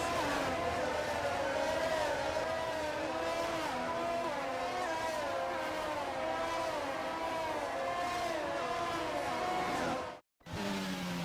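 Several race cars in the F1 22 video game drone through a formation lap before a sprint race, engines humming steadily with shifting pitch, with talk over the top.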